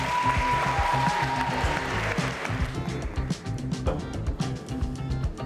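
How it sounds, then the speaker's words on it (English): A round of applause greets a participant at a group speed dating event, scattered claps rising over a steady music bed, moderately loud and continuing to the end. "Round of applause for girl 17"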